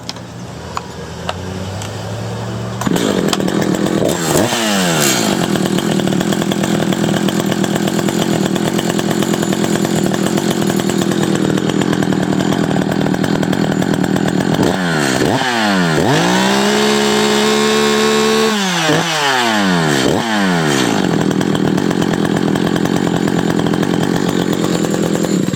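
An Echo CS-590 Timberwolf chainsaw starts and runs close by, idling roughly between several loud throttle blips with rising and falling revs and one sustained high-speed rev in the middle.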